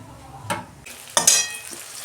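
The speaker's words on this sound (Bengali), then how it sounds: "রসুন দিচ্ছি। রসুনটা আমি একটু ভেজে নেব।" Garlic going into hot oil in a pan for a chicken dish: a short tap, then a sudden sizzling hiss that flares up with a couple of crackling bursts, loud and close, with no talking.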